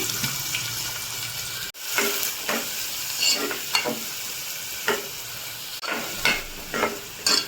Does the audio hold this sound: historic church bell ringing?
no